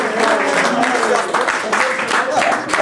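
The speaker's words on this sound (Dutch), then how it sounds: "Hij vraagt applaus voor Jasper van Son." A crowd at a Dutch amateur football club event applauds Jasper van Son, giving dense, steady clapping that fills the whole stretch with voices mixed in.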